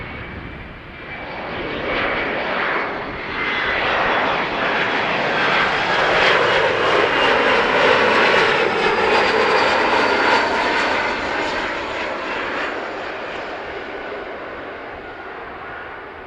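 An airliner lands on runway 06 at Amsterdam Schiphol Airport, its engine roar swelling loudly from a distance as it passes close, then slowly fading as it rolls away.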